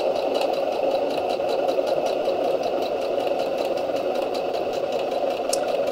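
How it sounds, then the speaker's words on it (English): A sewing machine runs in reverse over a quilt seam on a log cabin quilt, a steady close mechanical whir with fast even stitching pulses and a light rattle throughout, no talking. "I'm going to do a few stitches forwards and then a few stitches backwards"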